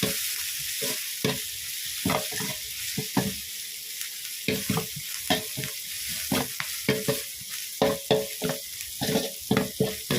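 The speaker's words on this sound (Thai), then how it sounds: "ใส่พริกกระเทียมที่เราตำไว้นะครับ ใส่ลงไปเลยครับพี่น้อง ผัดหอมมันหอ มๆครับ" Pounded chili and garlic stir-fry in hot oil in a pan for Thai squid basil stir-fry, with a steady sizzle and repeated scraping strokes of the spatula and no talking.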